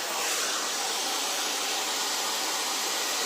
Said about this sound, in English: So now I'm turning my hairdryer to completely cold, and I'm going to take my diffuser attachment off.